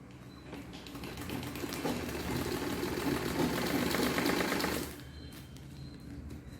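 A home sewing machine stitches a homemade grow bag made from waste materials, whirring steadily and close for about four seconds before stopping and leaving a quiet room.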